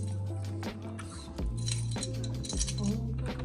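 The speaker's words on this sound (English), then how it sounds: "Keys." Keys jingle and clink in a series of bright metallic rattles, close and fairly quiet, with a low hum underneath.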